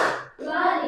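Classroom hand-clapping from a class doing the 'tepuk fokus' clap game, a burst of claps that breaks off briefly and then resumes as a denser patter of hands.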